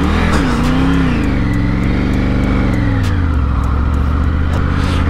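An off-road vehicle grinds up a steep climb in first gear in Zanskar, its engine loud and close, labouring with a deep, uneven drone that rises and falls in pitch, with no talking.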